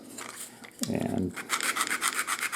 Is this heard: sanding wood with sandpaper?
yes